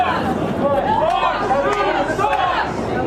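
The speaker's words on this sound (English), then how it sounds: "they're actually chanting, "Fox News sucks. Fox News sucks."" A loud, boisterous political crowd at an election rally chants in unison, rhythmic repeated shouts rising over a dense babble of voices, heard from a short distance away.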